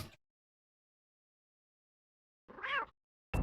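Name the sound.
cat meowing in a SNES video game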